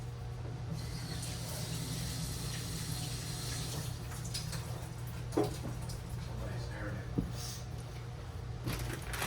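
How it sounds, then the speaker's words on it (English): Tap water runs as hands are rinsed under it, a faint, steady wash over a low background hum. "And then I'm gonna rinse my hands."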